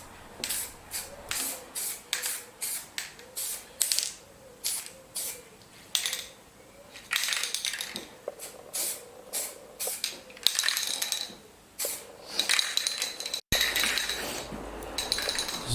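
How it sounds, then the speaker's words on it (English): A rattle can of etching primer sprays in repeated short bursts, each a hissing puff of a second or so with brief gaps, close by and alone, over a lawn mower deck. "So now we're spraying a rattle can of primer, etched primer."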